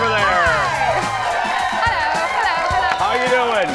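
A studio audience at a talk show cheers loudly and continuously, with many overlapping whoops and shouting voices close together and no break.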